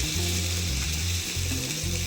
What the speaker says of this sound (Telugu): యాడ్ చేసుకొని బాగా లో ఫ్లేమ్లో పెట్టి ఫ్రై చేసుకోవాలి.